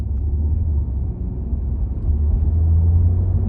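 A Volkswagen Golf 8 Style picks up speed through town, a steady low engine rumble heard from inside that swells slightly toward the end, with no talking.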